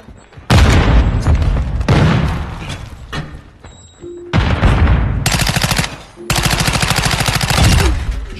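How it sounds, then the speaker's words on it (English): Video game firefight with stun grenade and grenade blasts amid gunfire: heavy booming explosions and rapid machine-gun bursts in loud, dense stretches with brief pauses, plus faint shouted voices. "Throwing stun grenade! Throwing grenade!"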